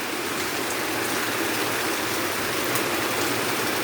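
Heavy rain pours steadily outdoors during a windy spell, a dense and constant hiss with no break that stays at an even, moderate loudness.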